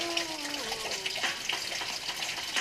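Cold mineral water running from a natural spring inside Rigi Kloesterli cave, a steady close splashing stream with a faint voice and some clinking near the start.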